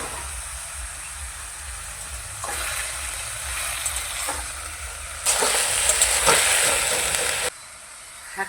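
Dheki shaak greens fry in a pan with chilli and garlic, a steady crackling sizzle that jumps louder as the greens go in and are stirred, then drops back down near the end.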